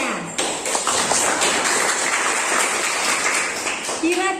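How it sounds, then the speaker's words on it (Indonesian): Applause from students for a group that has just presented its discussion results in an Indonesian classroom, a steady dense patter of clapping filling the room throughout, with a voice speaking briefly near the end. "Baik, kita kasih tepuk tangan untuk kelompok yang sudah menampilkan hasil diskusinya"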